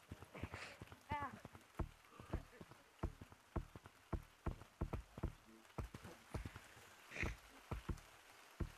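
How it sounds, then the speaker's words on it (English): Rain falls in a jungle-themed video game, a steady patter mixed with pattering clicks and short thumps, while voices talk over it. "Oh, it's raining."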